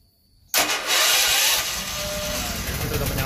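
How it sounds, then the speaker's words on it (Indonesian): A genset generator's engine cranked on its key starter suddenly catches after a quiet moment, then roars up loud and settles into a steady running rumble, close by with no talk. "Starter, oh ya kuncinya di sini. Kunci genset."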